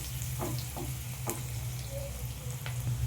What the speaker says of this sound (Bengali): পেঁয়াজটা আমি একটু ভালো করে ভেজে নেব।